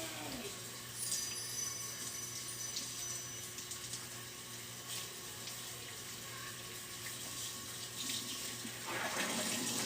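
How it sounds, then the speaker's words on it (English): Tap water running steadily into a sink while a pile of tie-dyed fabric is rinsed, a continuous close splashing hiss with faint shifting sloshes, no talk. "We're rinsing out a pile of tie-dyes."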